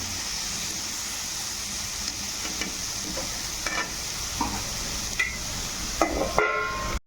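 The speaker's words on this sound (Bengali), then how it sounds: "করলাটা অনেকটা ভাজা ভাজা হয়ে এসছে।" Bitter gourd (karela) fries and sizzles steadily in a pan, with a spoon or spatula scraping and stirring in short bursts that grow louder toward the end before stopping abruptly.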